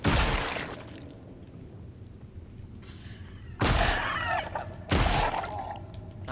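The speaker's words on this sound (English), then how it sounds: "What a bizarre little gun. It's like a Nerf gun, firing those little rubber bullets." An alien gun in the game Scorn fires, giving three sharp cracking blasts with rattling, shattering tails, spaced a second or more apart and heard close over a low rumbling ambience.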